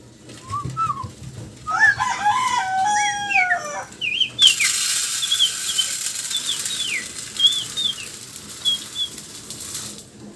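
Backyard chickens cackle and crow, then a loud burst of wing flapping breaks out midway, followed by repeated high chirps and calls over a continuous rustling flutter.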